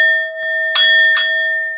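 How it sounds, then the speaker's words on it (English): A hand bell rings out twice, bright and sustained, over a steady tonal hum during an online donation thank-you stream; the strikes are close and loud, with the ringing decaying between them. "I got to ring the bell for you."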